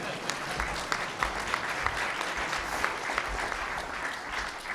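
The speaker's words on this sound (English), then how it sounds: "we can break rank and give him a round of applause" A luncheon audience at the National Press Club applauds a guest speaker, a recent University of Pennsylvania graduate, with moderate, somewhat distant clapping whose individual hand claps poke through a steady patter.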